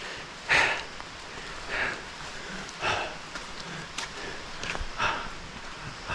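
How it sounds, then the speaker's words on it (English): Light drizzle falling in jungle on a mountain trek, soft patter with scattered drops and occasional louder rustles or thuds at irregular intervals, fairly faint and without voices. "the rain has not completely subsided yet. There's a little drizzle"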